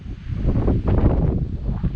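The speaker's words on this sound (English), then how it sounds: "Still windy though. Windy and warm." Wind blows steadily outdoors, rumbling against the microphone in low, uneven gusts with a soft rustle in the background.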